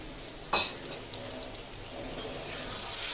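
Fried duck eggs go into a pan of cooked-down masala oil, with one sharp metal clink from a utensil striking the pan, then faint scraping and quiet kitchen noise.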